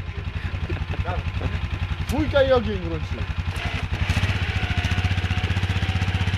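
A Kawasaki KXF450 dirt bike on a muddy enduro ride, flooded after going under in a bog, runs with a steady throbbing engine note throughout, loud and close, while people talk over it.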